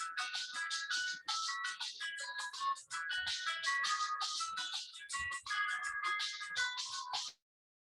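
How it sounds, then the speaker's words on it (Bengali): A phone ringtone goes off during a statistics lecture. Its melodic, repeating tones play clearly for about seven seconds and then cut off. "সরি একটা ফোন আসছে"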